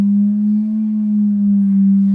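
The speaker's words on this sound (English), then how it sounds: "So this is Kepler's Saturn. And this is what it actually would sound like" A single low, steady synthesized tone sonifying Saturn's orbit hums continuously, wavering only slightly in pitch, with nothing else around it.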